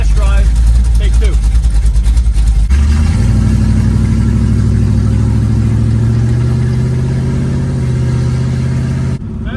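A car engine running steadily on a test drive after loose plug wires were adjusted and the distributor advance was freezing up, a loud continuous mid-pitched hum close by, with a shift in tone early on and a sudden cut near the end.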